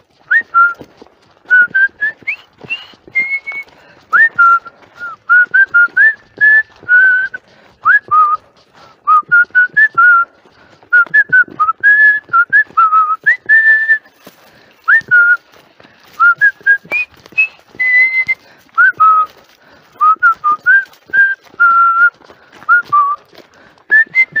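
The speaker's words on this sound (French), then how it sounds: "T'allais siffloter pour l'appeler?" Someone whistles a wandering tune up close, short melodic phrases with brief pauses, clear and fairly loud over a quiet background.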